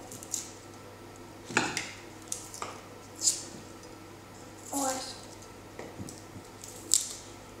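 A knife chops a garlic clove on a board in scattered crisp strikes, close and fairly quiet, over a low steady background hum.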